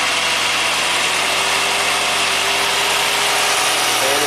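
A 1993 Saab 9000 CSE Turbo engine running at a steady, somewhat high idle, heard close and loud as a continuous broadband hum with a faint tonal whine and no pauses.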